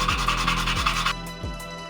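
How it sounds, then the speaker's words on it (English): Rhythmic back-and-forth rasping of sandpaper on wood pieces, steady and close, with soft music playing underneath. "Sand it all for good measure"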